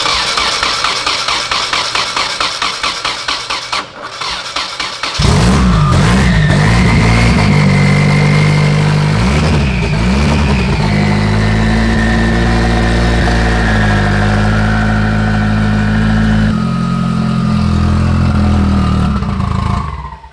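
A car engine with Turbosmart turbos cranks and fires up, then settles into a loud, steady idle with a high turbo whistle ringing above the rumble.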